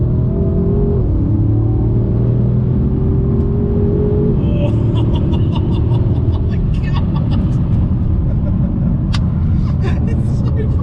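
A 1000 bhp BMW M5 pulling hard, a deep engine roar with rising tones that break off into a rougher rumble and ticking, loud and close throughout.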